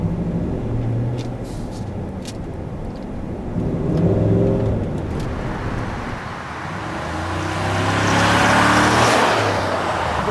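A 2015 Cadillac Escalade 4x4 with a 6.2-liter V8 revs hard, its deep engine roar swelling and easing twice, loud and close, with no talking.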